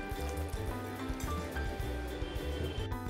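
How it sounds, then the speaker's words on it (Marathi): Water pours into a pan of chickpea curry gravy with a steady splashing, gurgling flow, close and continuous. "यात पाणी घालूया."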